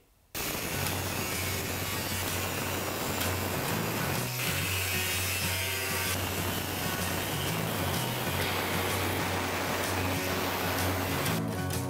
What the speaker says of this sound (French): Donc on va découper à la disqueuse et installer tout ça dans le cercueil.